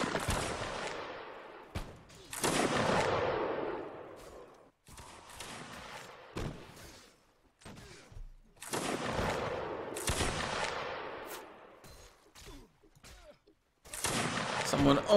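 Musket fire during a Mount and Blade battle set in the Seven Years War: scattered loud shots and rolling volleys mixed with battlefield din, repeating at irregular intervals through the clip.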